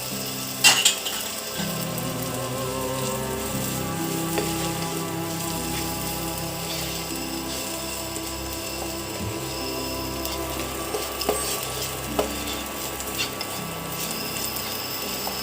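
Dried grated coconut fries in a pan for a Bengali pumpkin curry, giving a steady close crackling sizzle with scattered scraping clinks from the stirring spoon.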